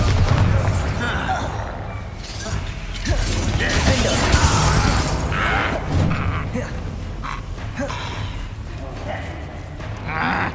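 Bombarda spell blasts going off in the Hogwarts Legacy video game, a loud, dense run of booming explosions and crashing debris that carries on throughout, with a couple of brief sharp bursts standing out from the rumble.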